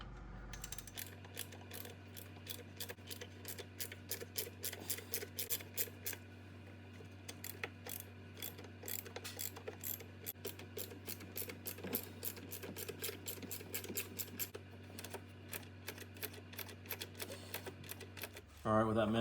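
Rapid clicking of a ratchet backing out 8mm bolts from the upper intake manifold of a 3.6L Jeep Grand Cherokee, a fast regular series of sharp ticks over a steady low hum, close up.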